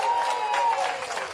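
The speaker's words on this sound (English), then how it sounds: "Let's give Henry a big round of applause" Brief crowd applause at an elementary school ribbon-cutting, a short burst of many hands clapping together, steady and moderately loud, with a faint tonal whine running underneath.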